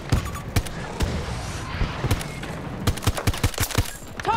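Rapid bursts of gunfire from a fast-firing weapon in Battlefield 2042, sharp cracks in uneven clusters over a steady rumble of battlefield ambience, loud and close with no talk.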